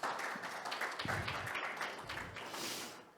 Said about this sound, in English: So I want you all to give yourself a big round of applause for that.